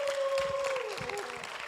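A church congregation claps in a short burst of applause behind a sustained tone, filling the room evenly for under two seconds.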